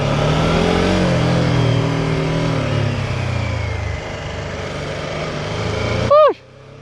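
A BMW F450 GS, a 450cc adventure motorcycle, runs close by on its first ride, its engine droning loudly and steadily as the revs rise and fall, then the sound cuts off into a short burst of tones near the end.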